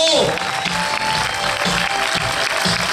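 Premiere audience clapping for the film team, a sustained dense roar of many hands with a voice briefly audible at the start and murmurs beneath.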